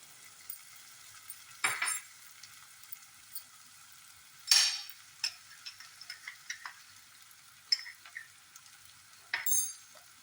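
Onions sautéing with salt in a pan for masala dosa filling, a soft steady sizzle with occasional stirring scrapes and light clinks against the pan, close and fairly quiet, no talking.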